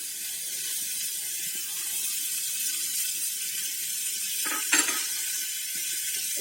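Mixed vegetables being stir-fried in a pan with turmeric, coriander and cumin powder, salt and vegetable spice mix, a steady soft sizzle with a couple of brief scraping stirs near the end.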